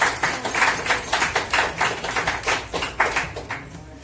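Brisk rhythmic applause from a small audience at a French-language book launch, a run of hand claps that swells and eases over several seconds, with no talking.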